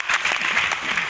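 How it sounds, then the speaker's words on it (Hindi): An audience at a motivational talk for students breaks into brief, scattered clapping that is close and fairly loud for about a second. "बजा लो ताली, कोई बजा रहा था"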